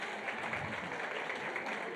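An audience claps at a women's empowerment event in Cape Town, giving a steady round of applause that fills the room evenly at moderate volume for the whole stretch.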